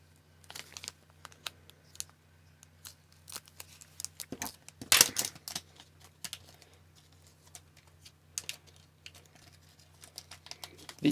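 Packing tape on a mail package is cut and torn, giving sharp snips, crinkles and rustling handling noises in irregular close bursts.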